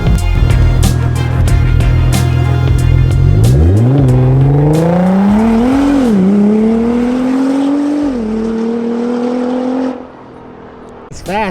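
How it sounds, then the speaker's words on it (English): A widebody Rocket Bunny Nissan GTR revs loudly close by, its engine note climbing in pitch with a couple of brief dips between rises, then dropping away at the end. "Holy shit, the car is fast."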